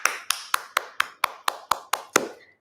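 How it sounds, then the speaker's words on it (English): A single person claps ten sharp, evenly spaced times in quick succession, close and crisp against near silence, the last clap slightly louder before a brief fade. "give Taylor a big round of applause"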